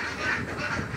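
Khaki Campbell ducks at a hatchery farm quack and honk together in a dense, continuous chorus, loud and close, with no talking over it.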